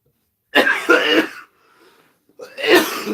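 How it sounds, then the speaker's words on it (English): A podcast host's cough, a couple of harsh bursts close to the mic, then a brief quiet gap before another strong cough-like burst. "Sorry, got a cough."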